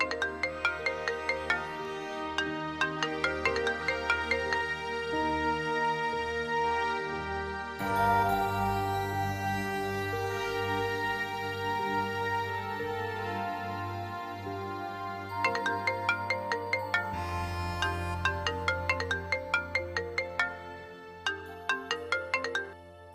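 A phone ringtone plays a bright, repeating electronic melody for over twenty seconds and is never answered, loud and steady with no voices.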